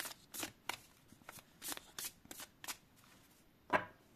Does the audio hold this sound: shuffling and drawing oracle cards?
yes